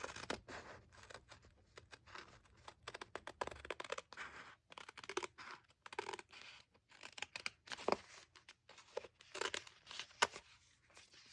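Scissors snipping through a sticker sheet in repeated short, crisp cuts with paper rustling and crinkling between them, close and fairly quiet, with no talking.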